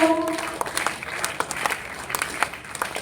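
An audience at a kavi sammelan poetry recital in Katihar claps in a dense, continuous patter with sharper individual claps poking through, after a voice fades out at the start.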